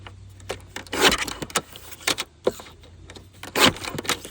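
Scissors cut through thin cardboard food packaging, giving a series of close, crisp crunching snips in irregular bursts with short pauses between them.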